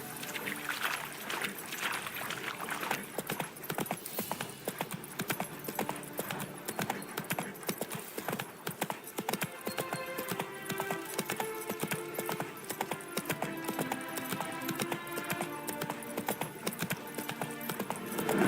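Hooves of Roach, a horse in a video game, clip-clop in a steady trotting rhythm, moderately loud and continuous, with game music and ambience layered underneath.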